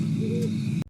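A great horned owl hoots in a forest at this time of year, a soft low hoot rising briefly over a steady low rumble before the sound cuts off.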